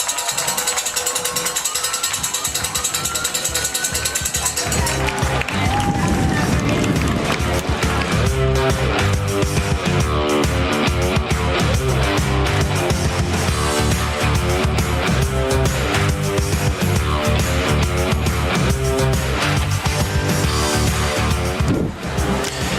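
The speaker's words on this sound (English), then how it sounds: "as you can hear, the crowd was getting loud there" Loud crowd noise at a Friday night high school football game featuring the Falcons, DHS against Reading, a dense continuous roar with rhythmic pounding and clatter, steady and close for the whole stretch after a quieter opening few seconds.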